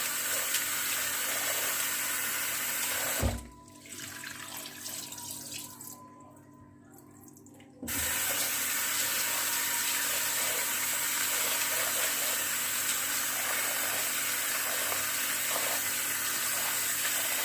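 Tap water runs steadily into a bowl as rice is rinsed, a constant close hiss of flowing water that briefly drops away for a few seconds and then resumes for the rest.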